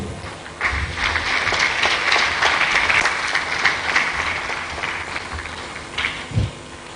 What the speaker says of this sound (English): with a round of applause, let's give it up for them